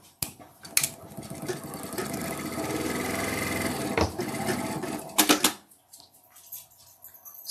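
Close and loud, a sewing machine stitches two fabric pieces together with locking stitches on, humming in one continuous run. Sharp clacks and thumps of handling follow near the end before the motor stops.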